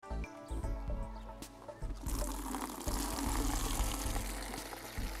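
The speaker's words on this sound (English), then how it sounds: "And now we are just going to fetch water here. We're going to watering our flowers." Water splashes and pours noisily into a bucket, fetched outdoors at a school for watering flowers, with fowl clucking in the background and no talk.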